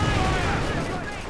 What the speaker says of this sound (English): Incendiary grenades going in apparently.